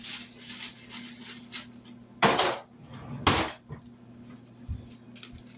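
Betty Crocker cake mix package being opened in a home kitchen, with a few sharp crinkling tears and handling noises standing out over a low steady background hum, no talking.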